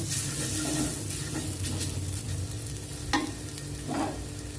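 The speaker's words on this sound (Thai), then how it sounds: "ผัดยังก็ใส่น้ำมันนิดเดียวเลยค่ะบ่ใส่น้ำมัน" Vegetables stir-fried in a pan with only a little oil while making thick-broth rolled noodle soup, a steady close sizzle and frying hiss broken by a few scraping stirs of the spatula, with no talking.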